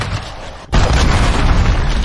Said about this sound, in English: Enemy cruise missile incoming, take cover.